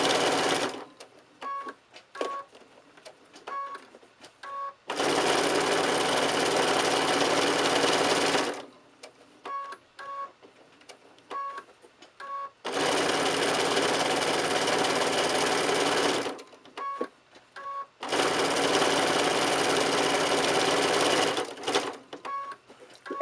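A sewing machine runs in three long bursts stitching over a seam on a hexagon mug rug, each burst a steady loud whirring, with quiet clicks and fabric handling in the pauses between.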